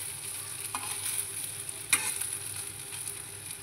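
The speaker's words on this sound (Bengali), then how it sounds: "এই যে ভাজা হচ্ছে" Coconut pakoras frying in hot oil over lowered heat give a steady, close crackling sizzle, with a couple of faint clicks and no voices.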